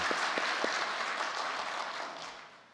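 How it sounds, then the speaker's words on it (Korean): Church congregation clapping for a choir at an early-morning prayer service, a dense steady patter of hands that slowly thins toward the end. "박수 한번 치겠습니다."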